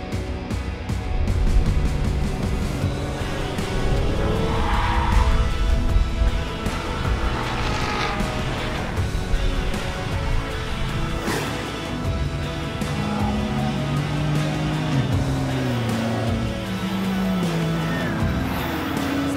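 Race cars, including a NASCAR Camaro, run on a circuit track, with engines roaring and passing at varying distances and occasional tire noise, a continuous mix of motor sound without talk.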